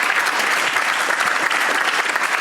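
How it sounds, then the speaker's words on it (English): Evening speaker event where the crowd gives a big round of applause for six speakers, dense and loud clapping that fills the whole brief moment. "Can I ask everyone to give all 6 a massive round of applause?"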